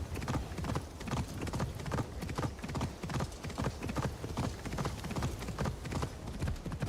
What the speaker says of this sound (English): There's our horse, Noble Steed.